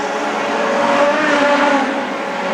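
Production sedan race cars lap a track in a 15-lap final, engines droning loud and steady throughout with a sustained whine and faint tire squeal, no talk.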